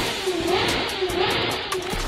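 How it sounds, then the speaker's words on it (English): A neighbor's car engine revs in an open garage, a steady loud drone with rising and falling pitch sweeps repeating every second or so, close by and alone. "they wake up to the sound of their neighbor revving his car in an open garage."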